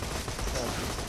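Dense, continuous gunfire from the shooter game Borderlands 2, a loud rattling fusillade that fills the whole brief moment with no pause between shots.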